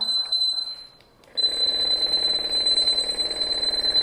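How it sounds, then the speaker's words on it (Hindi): A student-built earthquake alarm from a school buildathon project sounds a piercing, continuous high electronic tone. It cuts out briefly after a short stutter, then resumes steadily and loudly with a faint buzzing undertone. "जैसे ही बड़ा भूकंप आएगा तो ये अलार्म बजने लगेगा"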